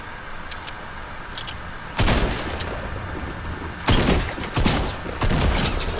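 Several loud bursts of gunfire in a Fortnite match, sharp cracks at irregular intervals over a low ambient background, with no talk.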